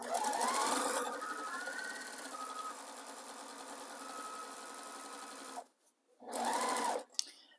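A sewing machine stitches over frayed chambray raw-edge appliqué on a cotton baby quilt, running as a loud, fast, continuous whir for several seconds, pausing briefly, then running again in a short burst.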